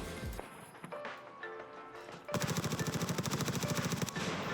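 Rapid automatic gunfire rattles in a steady burst from player-versus-player fighting in the Escape From Tarkov video game, following quieter ambient shots and movement, fairly distant and with no talk.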